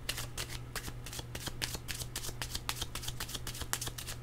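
Cards shuffled for a card reading, a steady run of dense riffling flutters close up with a faint steady hum beneath and no talk.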